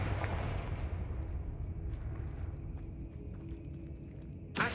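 A fire spell explosion in Hogwarts Legacy opens loud with a rumbling fiery blast that slowly fades into a low roar, then a second sharp burst lands right at the end.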